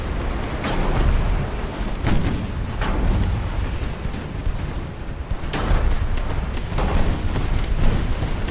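Naval artillery salvos from warships in Ultimate Admiral: Dreadnoughts, 1890-era Russian fleet battle, a dense continuous rumble of heavy gun blasts and booms overlapping one another, loud and steady throughout.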